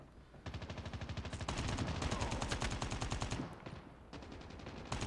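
An automatic weapon in COD Mobile fires in long, rapid bursts of evenly spaced shots. One sustained spray is followed by a short pause and another burst, loud and close, with no one talking.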